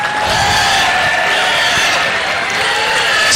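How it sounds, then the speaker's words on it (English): Crowd noise rises from the stands at a county fair rodeo junior livestock showcase, a loud, steady wash of cheering and clapping sustained throughout with no pauses. "make some noise from the stands"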